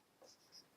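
A teacher writes maths on a board during a lesson, giving a few faint short marker squeaks and scratches, ending in a slightly louder stroke, with no talk.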